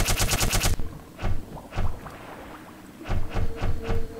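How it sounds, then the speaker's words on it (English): An alien weapon fires in the shooter game Black Mesa: a fast rattling burst up front, then a series of separate loud pulsing shots spaced about half a second apart, with no voices. "the alien gun still works, so that's a thing"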